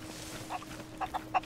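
Chickens in the pirate video game Sea of Thieves cluck in a few short bursts, soft and fairly close, spaced unevenly over a low background hum.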